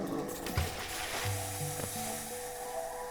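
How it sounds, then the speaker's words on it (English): Sizzling hiss in the Voidheart video game, resembling burger patties grilling, layered with low mechanical ratcheting tones and short bursts; steady and moderately loud throughout, with no voices. "Why does it honestly sound like grilling patties, like burger patties? It sounds like grilling."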